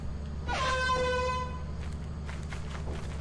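Air horn blast in the video game Lethal Company, a loud tonal honk lasting about a second with harmonic layers, fading into faint background noise.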